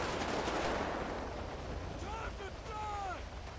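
Gunfire from a police shootout in GTA 5 on an LSPDFR gang unit patrol, a dense rattle of shots early on under a noisy wash, followed by voices talking.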